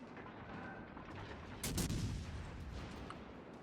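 Exeter cruiser firing high-explosive shells in World of Warships: Legends on Xbox, a steady low rumble of battle ambience broken by one loud, booming cannon salvo midway that fades into distant echoes.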